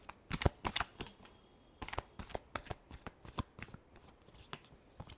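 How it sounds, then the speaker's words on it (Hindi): Tarot deck being shuffled by hand: crisp, close bursts of riffling card flutter in irregular clusters, with a few short pauses between shuffles. "Last shuffle."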